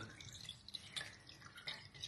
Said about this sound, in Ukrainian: Треба, щоб добре стикала вода.